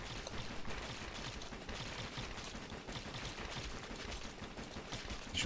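Basic pistols fire in a zombie shooter video game, with rapid, dense shots overlapping into a near-continuous volley at steady, moderate loudness and no talk.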